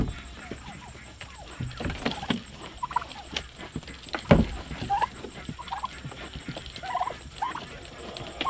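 Blue slate turkeys gobble in short bursts amid rustling, thumps and shuffling movement on a farm, the calls fairly close and scattered across the clip.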